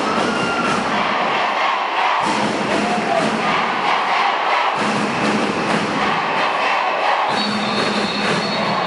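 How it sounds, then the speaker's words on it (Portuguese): A crowd at a school games final cheers a goal in a sports gymnasium, a loud, dense roar of voices that swells and continues throughout, with a few thumps. "Aí uma grande participação da torcida, muito ativa aqui no Ginásio de Esporte Governador João Castelo"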